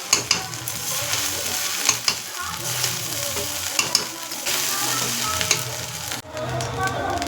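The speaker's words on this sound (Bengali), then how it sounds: "হালকা হালকাই নাড়বো। তো এবার দেখো এই সবজিগুলো সব দিয়ে দেবো।" Vegetables go into a hot frying pan and are stirred, giving a steady sizzle with scraping, clattering stir strokes throughout and a brief drop near the end.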